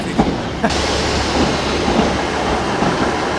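A train rumbles past nearby, steady and loud, with rhythmic clicking of wheels over the rails throughout.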